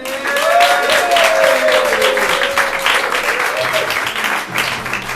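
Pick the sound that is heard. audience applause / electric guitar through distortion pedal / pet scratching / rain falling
audience applause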